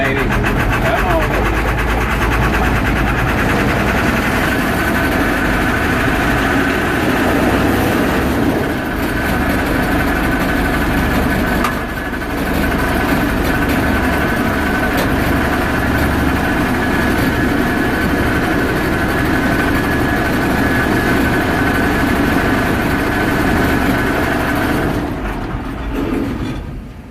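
A combine harvester's engine runs loud and steady for nearly the whole stretch, a dense low rumble with a sustained harmonic drone, easing off slightly near the end; no talk over it.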